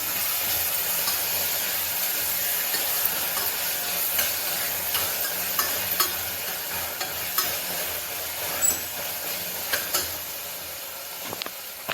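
Onions, tomatoes and mint saute in a pan for vegetable rice, a steady close sizzle with occasional light stirring clicks and scrapes throughout and no voices.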